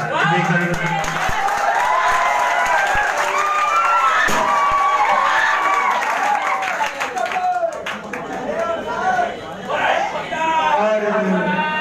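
Audience applause at a Teacher's Day celebration, with steady, dense clapping and cheering that stays loud throughout, mixed with crowd chatter and shouting.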